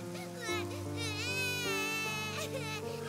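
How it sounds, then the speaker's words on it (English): An infant cries in the woods in the rain in an English-dubbed anime episode. The wavering, wailing cries are close and sit over sustained background music tones. "What is that, a crying infant?"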